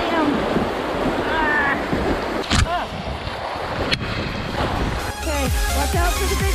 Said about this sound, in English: Watch out for the big waves, Christopher.